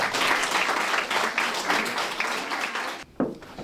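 Audience applause for the writers at a literary evening, dense sustained clapping from a crowd in a hall for about three seconds, then cutting off abruptly before a brief final burst.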